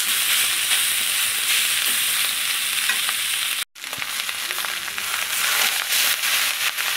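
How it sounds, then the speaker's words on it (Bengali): Leftover rice tossed into a wok of fried green chilli, garlic, salt and turmeric, a loud continuous sizzle that cuts out for a brief instant before resuming with scattered crackles and stirring scrapes. "এবার এই ভাজাগুলোর মধ্যে আমি ভাতগুলো দিয়ে দিচ্ছি।"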